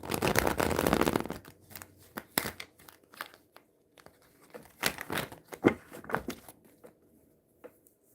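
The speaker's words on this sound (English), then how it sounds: "One more shuffle." Tarot cards being shuffled by hand in several bursts of crisp riffling and soft slaps, with short pauses between, close and fairly quiet.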